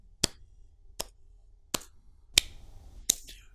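Five sharp, evenly spaced claps ring out one at a time in a quiet room, a slow sarcastic hand clap with brief gaps of silence between the strikes.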